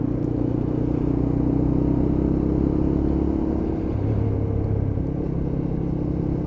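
Steady engine drone of a Lexmoto LXR SE 125cc motorcycle riding through urban traffic after leaving a dual carriageway, a continuous rumble with shifting tones as the engine note rises and falls, mixed with surrounding road and wind noise.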